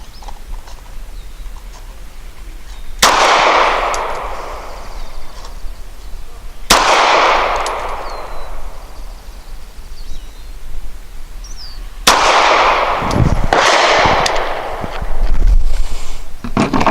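Three sharp shots from a Springfield XDe 9mm pistol loaded with S&B Subsonic 150 grain ammunition, spaced a few seconds apart at an outdoor range, each a loud crack with a brief decaying tail, the last followed by scuffs and handling noise.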